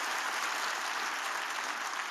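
A church congregation at a revival service claps steadily together, a dense, even wash of applause that fills the space without pause for the whole moment.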